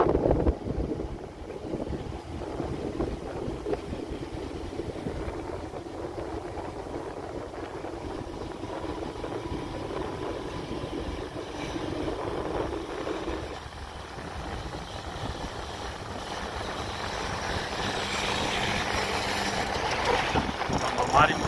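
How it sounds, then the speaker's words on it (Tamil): Wind buffets a mobile phone microphone outdoors during a walk on the Girivalam circuit around a hill, a steady rumbling roar running throughout with a rise toward the end, while a faint voice talks beneath it. "காத்துல அப்படி தள்ளுது லைட்டா மொபைல்."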